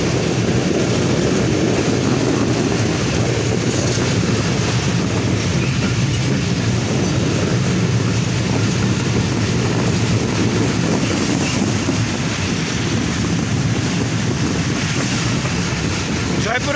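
The Banglabandha Express leaves Parbatipur Junction with a loud, continuous roar of wheels and carriages rumbling past close by, steady throughout.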